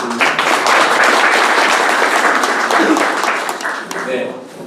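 An audience at an annual general meeting of an ROTC social contribution association applauds steadily, the clapping fading toward the end while a voice speaks over it.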